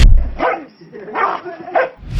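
Three sharp dog barks in quick succession, close and loud, with short pauses between them and no other sounds.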